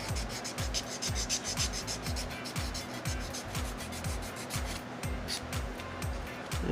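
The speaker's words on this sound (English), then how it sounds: "I'm going to take my coarser side here, back to the regular." Fingernails filed with the coarse side of a nail file, a close, quiet series of rhythmic rasping strokes in quick regular succession, heard alone.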